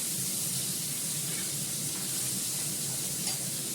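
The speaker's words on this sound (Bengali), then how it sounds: "কাজলি মাছটা ভালো করে কড়মড়ে করে ভেজে নেয়" Kajli fish frying in hot oil until crisp, giving a steady close sizzle and crackle that runs unbroken and evenly loud throughout, with no voices over it.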